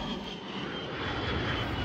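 An A-10 jet flying at the AirVenture air show, a loud, sustained engine roar that swells slightly as it passes, steady and unbroken with no talk.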